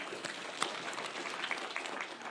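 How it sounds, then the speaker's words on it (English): A crowd claps steadily for former teachers at a burial service attended by Gachagua, a dense, continuous patter of hands with one sharper clap standing out. "We clap for all those teachers"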